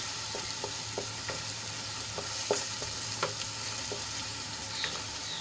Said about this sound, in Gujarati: ડુંગળી આપણે સરસ રીતે સંતળાઈ ગઈ છે અને લાલ થઈ ગઈ છે